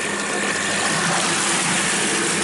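Water gushing steadily into a collecting tank during a Venturi-meter discharge experiment, a loud, continuous broadband rush that stays even from start to finish with no voices.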